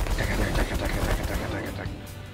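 An armor-piercing Gatling gun in The Last Federation fires in a dense, rapid stream of rattling shots that stays loud and steady, then eases off slightly near the end, mixed with other game noise.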